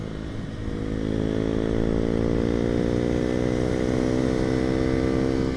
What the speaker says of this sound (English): it's interesting riding this thing around because it's a small motorcycle with a small engine